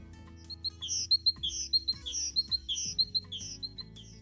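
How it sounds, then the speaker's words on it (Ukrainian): A great tit singing its clear, repeated two-note phrases in a steady rhythm, close and bright over a quiet low drone. "А тепер послухаймо, як тенькає синичка."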